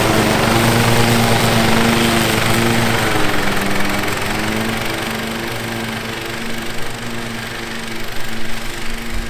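Petrol lawn mower running steadily up close through overgrown grass, a loud continuous droning engine hum with a slight dip and wavering in pitch partway through as the load changes, no voices.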